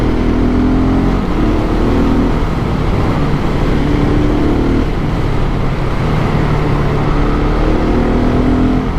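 Husqvarna 701 Supermoto motorcycle engine while riding, a loud steady drone with slowly shifting revs under heavy wind rush, continuous and close with no talk.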